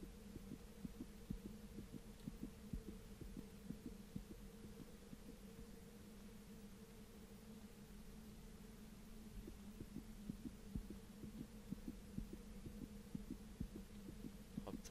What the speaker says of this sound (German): der hat das Herzschlagzeug übertrieben